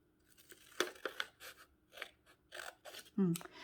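Scissors snip through paper in a series of short, crisp cuts close by, spaced irregularly, ending with a louder crunching cut.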